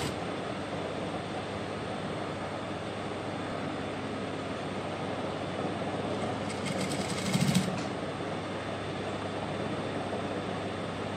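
A sewing machine runs steadily while stitching close to the edge of a garment neckline, a continuous even whirring hum with a brief louder rattle partway through.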